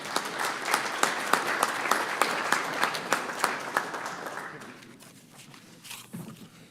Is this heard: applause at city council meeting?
yes